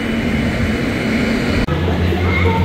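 A WAP5 electric locomotive shunting a Rupasi Bangla Express at Santragachi, a loud steady low hum and drone with a brief dropout partway, then the rumble continues.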